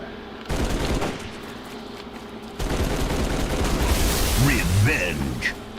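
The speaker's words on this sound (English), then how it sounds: "I ripped off the pelican turret." Sustained rapid gunfire from a Pelican dropship's turret machine gun in a video game, a loud continuous burst running through most of the clip, with a voice talking over it near the end.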